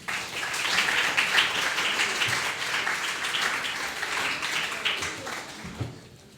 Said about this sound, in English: a big round of applause to welcome her